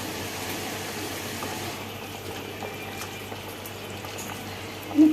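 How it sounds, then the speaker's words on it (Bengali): Fried hilsa fish pieces simmering gently in a curry broth, a steady soft bubbling hiss throughout at close range, with a brief louder burble near the end; no talking. "খুব আলতোভাবে মাছগুলোকে ঝোলের মধ্যে ছেড়ে দেবো"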